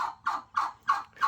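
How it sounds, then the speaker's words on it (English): A hen turkey calls for the tom, four or five loud, evenly spaced calls close to the microphone with no talking. "she will call for the tom turkey all day"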